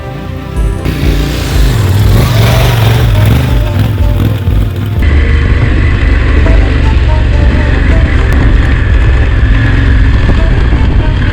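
A KTM Adventure motorcycle engine runs at light throttle on a Bosnian trail, a close, loud and steady low rumble with wind and rattling that shifts in tone partway through.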